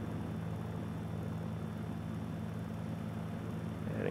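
A simulated Mooney light aircraft taxis on the ground in a VR flight simulator, its propeller engine giving a steady, low, faint drone throughout.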